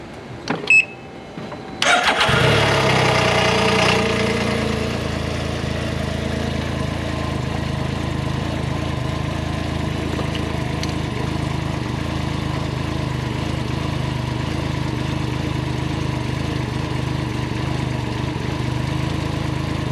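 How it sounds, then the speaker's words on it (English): A Can-Am Ryker engine cranks and catches after a couple of seconds, then settles into a steady, close idle that runs alone for the rest of the clip. "I'm gonna start it up, see how everything flows."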